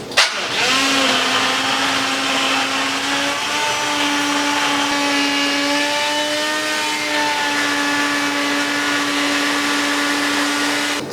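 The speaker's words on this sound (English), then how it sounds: "I'm gonna get the immersion blender out, give it a quick blitz" Immersion blender whirring through a simmering homemade BBQ sauce of apples and tomatoes, a steady high motor whine that shifts pitch slightly as it works, loud and close with no talk.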